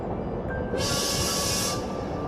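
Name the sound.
train slowing down in Heart of the Woods video game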